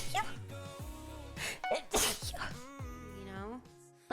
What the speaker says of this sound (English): I have to sneeze? Oh no.